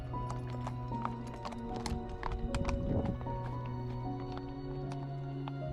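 Horses walk a steep Camino de Santiago trail in Galicia, hooves clip-clopping in an irregular rhythm close by, with a brief whinny and soft rustling; no one speaks.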